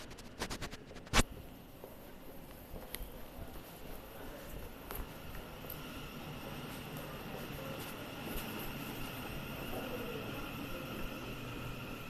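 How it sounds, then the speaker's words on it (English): A new Crossrail train approaches a station platform at Abbeywood, a low rumble building gradually and steadily after a few sharp clicks and a loud knock at the start, with no talking. "I think this is my train coming"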